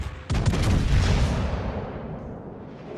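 Secondary guns open fire in World of Warships: Legends: a rapid string of close, sharp shots hits first, then their booming roar trails off over the next few seconds.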